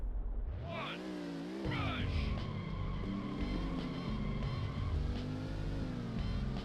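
A concept car engine in the N64 racing game Rush 2 revs, roaring up and down in pitch, steady and loud, with brief skids and no talking.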